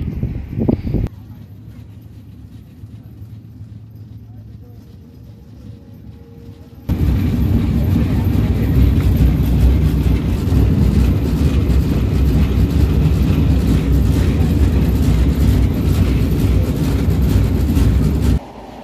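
Passenger train running from Bheramara to Kamalapur as it moves onto the Padma Bridge, a quiet hum that suddenly swells into a loud, sustained rumble and roar of wheels and carriages lasting to the end.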